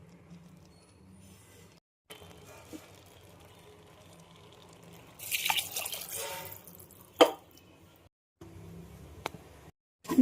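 Water poured into soaked rice in a pot for vegetable pulao, heard as quiet trickles and drips, then a brief louder splashing pour with a sharp clink, set against low room hum and short pauses.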